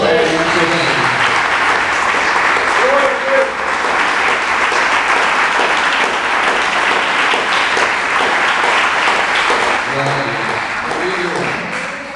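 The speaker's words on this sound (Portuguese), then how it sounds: "As palmas louvem a Deus." A church congregation claps together in sustained, loud applause, a dense continuous patter that holds steady throughout and tapers slightly near the end.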